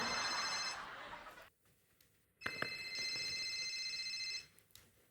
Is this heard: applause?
no